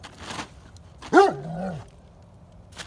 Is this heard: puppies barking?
yes